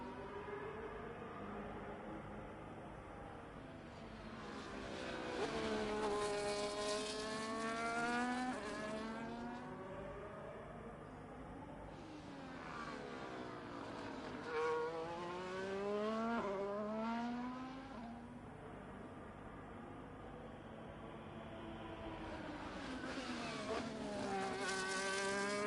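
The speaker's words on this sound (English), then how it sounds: "Currently watching Devo going around the track as he warms up his tyres" A race car in a racing video game laps the Qatar circuit, its engine climbing and dropping through repeated gear shifts as it rises, fades and returns in long sweeping passes at moderate volume.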